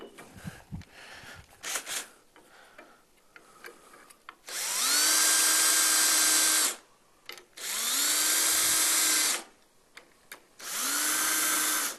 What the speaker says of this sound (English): The reason we're using the self-centering drill